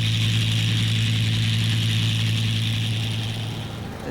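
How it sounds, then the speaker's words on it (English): Rolls-Royce Merlin engines on an Avro Lancaster bomber roar at ground test, a loud, steady droning hum with a deep low throb that holds constant, easing slightly at the very end. "With both engines up and running on one side, the Lancaster is shaking and alive."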